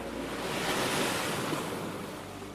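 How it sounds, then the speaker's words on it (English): Atlantic waves breaking along the Senegal shore with wind, a steady broad roar of surf and gusting air that swells and eases slightly, no voices. "Waves, wind, and voices collide on one restless shore."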